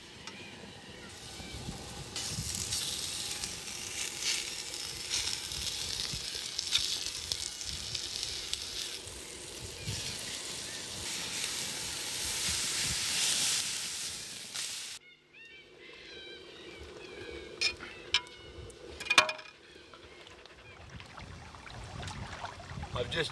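Food sizzling on a shovel heated over campfire coals in the bush, a steady crackling hiss for about fifteen seconds, then quieter outdoor sounds with occasional sharp clicks and faint bird calls.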